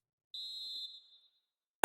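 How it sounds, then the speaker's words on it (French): Referee's whistle in a FIFA 21 football match between Paris Saint-Germain and RC Lens: a single sustained shrill blast, clear and fairly faint, tailing off after about half a second. "L'arbitre qui siffle contre le PSG."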